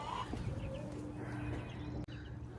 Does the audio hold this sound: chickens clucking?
yes